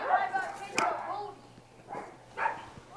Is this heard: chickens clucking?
no